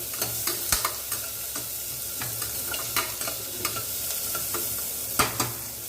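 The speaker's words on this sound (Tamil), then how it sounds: "நல்லா வதக்கி கொடுங்க" Large onions and spices sautéing in a pan for sweet-spicy Sri Lankan seeni sambol, a soft steady sizzle broken by repeated sharp spatula scrapes and taps against the pan, no voices.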